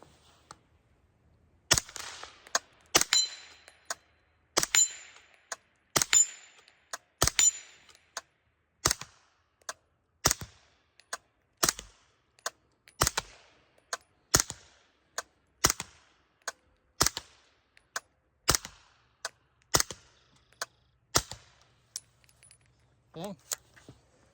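Rounds of 150 grain Federal Syntech fired from an SPC9 PDW, roughly twenty sharp, loud reports spaced a second or so apart at a steady pace, with quiet gaps between shots.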